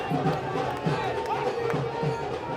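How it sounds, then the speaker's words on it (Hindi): Enthusiastic crowd at a political roadshow for Kanhaiya Kumar after his nomination filing, a dense murmur of many voices with scattered shouts, steady and moderately loud throughout. "अच्छी खासी भीड़ और जोशीली भीड़ के साथ कन्हैया कुमार अपना रोड शो निकाल रहे हैं।"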